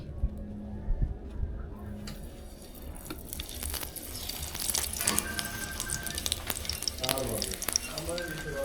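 Paratha frying in oil in a pan, a steady close sizzle running throughout with occasional clinks and scraping, while a person talks over it.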